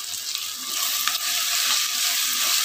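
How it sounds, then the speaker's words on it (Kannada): Rice ingredients with dill leaves, mint and turmeric frying on medium flame, giving a steady, close sizzle with occasional stirring scrapes, no voices. "ಮೀಡಿಯಂ ಉರಿಲೇ ಫ್ರೈ ಮಾಡ್ಕೊಳ್ಳಿ."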